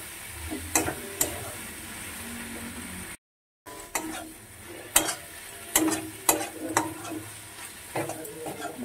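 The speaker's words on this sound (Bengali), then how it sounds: "সেই জন্য এই মশলার সঙ্গে সয়াবিনটিকেও ভালো করে আমি ভেজে নেব" Soybeans frying with spices sizzle in a hot pan while a spoon scrapes and taps against it in irregular strokes, with a brief silent gap partway through.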